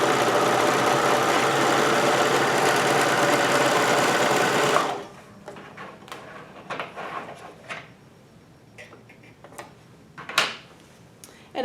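A Juki MO1000 serger runs steadily at full speed for about five seconds, a dense mechanical whir, then stops, leaving scattered small clicks and handling noises.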